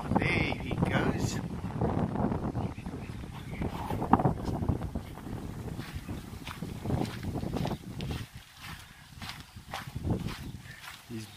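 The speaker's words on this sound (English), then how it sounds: "It's a lot of wind here today." Strong outdoor wind near a tiger enclosure buffets the microphone in loud, rumbling gusts that rise and fall throughout.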